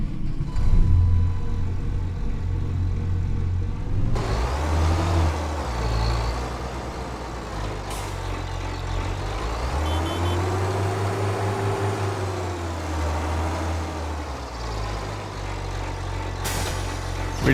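A truck moving a trailer in the video game Farming Simulator 25, with a steady diesel engine rumble that shifts pitch as it revs, and short hisses of air brakes now and then.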